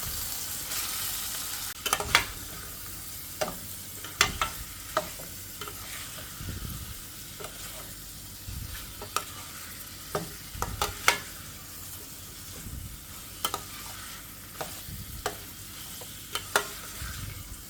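A spoon stirs red chili powder and cumin into a sizzling chicken curry in a pan, with irregular scraping clinks over a steady frying hiss, close and moderately quiet.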